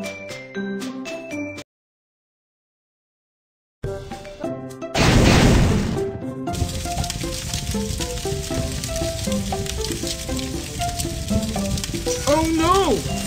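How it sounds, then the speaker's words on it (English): A cartoon fire flares up with a sudden loud burst of crackling, sizzling noise among playful music and sound effects, after a short silence, in a children's animated earthquake rescue scene. "Oh no! Fire!"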